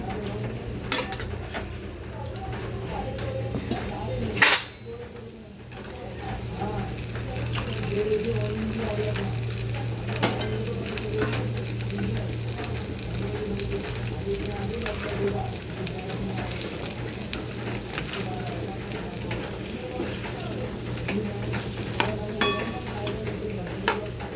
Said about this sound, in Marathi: वांगी पण आपले मस्त छान फ्राय झालेले आहेत.